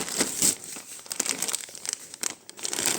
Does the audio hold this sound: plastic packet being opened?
yes